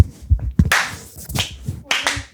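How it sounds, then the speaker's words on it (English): A small group does a Spidey clap, a few sharp, separate claps and slaps spaced unevenly over two seconds, close and crisp, with some low murmuring between them. "We got to do Clap. Spidey clap."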